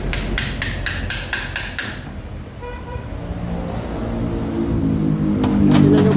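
Rapid metallic hammer strikes on a Kia Rio electronic power steering part ring out in a quick burst, followed by a lull and another short series of taps over a steady engine-like hum.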